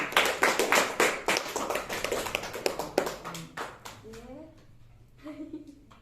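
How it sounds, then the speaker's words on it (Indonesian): Pupils clapping in a madrasah primary classroom during a practice lesson, a burst of quick hand claps and taps that fades out, with a voice speaking near the end. "Tepuk tangan buat kalian."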